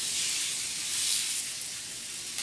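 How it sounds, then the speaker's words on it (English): Loud, steady sizzling of pork tenderloin on a hot griddle, a bright continuous hiss with no voices. "I'm going to go now and put this on the griddle. You're going to hear a sizzle."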